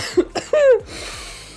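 A person who is still a bit ill coughs close to the microphone in a few short, sharp bursts during a live commentary on a mobile tank game.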